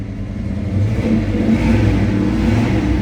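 A 1970 Chevrolet Chevelle SS engine revs loudly up close, a deep steady rumble that swells after the opening moment and holds strong throughout, with no talking over it.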